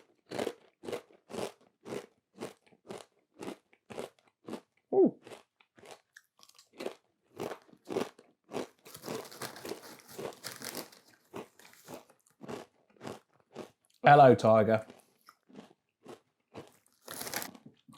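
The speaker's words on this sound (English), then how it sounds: "They're some of the crunchiest crisps I've had" Jalapeño-flavoured crisps are crunched with loud, close, regular bites and chewing in a steady rhythm, followed by a brief crinkle of the packet. A few words are spoken partway through.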